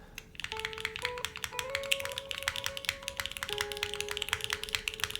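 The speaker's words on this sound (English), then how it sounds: "I think the whole keyboard sounds a smidge nicer now too, from reseating it" A computer keyboard clatters with quick, steady keystrokes after being reseated in its build, crisp close-up taps running continuously over faint tonal background music.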